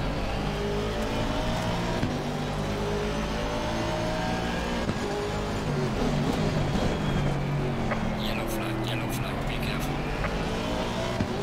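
Race cars on a circuit in Assetto Corsa Competizione: engines drone and rev continuously, loud and close, with gear changes and other cars around, under someone speaking French.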